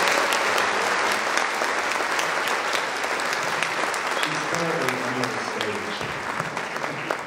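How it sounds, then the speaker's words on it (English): Audience at a fall choir concert applauds the associate director of choirs, a dense, loud, steady wash of clapping that carries through the whole stretch, with some voices murmuring underneath toward the end. "So can we have a round of applause for her?"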